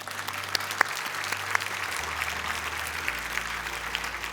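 Applause from a summit audience welcoming a speaker, a steady dense patter of clapping holding across the whole stretch at moderate volume with no voices on top.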